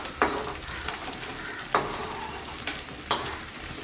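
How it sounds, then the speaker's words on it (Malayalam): Pappadams frying in hot oil at home, a steady sizzle broken by several sharp scraping stirs and clinks of a utensil against the pan, close and loud with no talking. "പപ്പടം ഉണ്ടാക്കും വറുത്തെടുക്കും"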